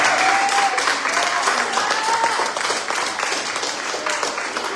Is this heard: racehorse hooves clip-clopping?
no